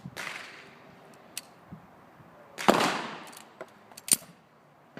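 A handgun's slide is racked after a misfire at a shooting range, giving a sharp metallic clack and a few lighter clicks, with a louder rushing burst in between, close by and with no talking.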